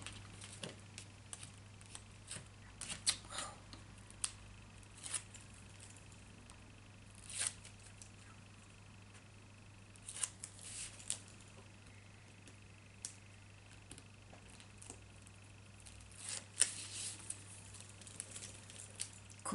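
Backing being peeled off double-sided tape on a paper pop-up card, faint scattered tearing and crinkling bursts at uneven intervals against a quiet background hum.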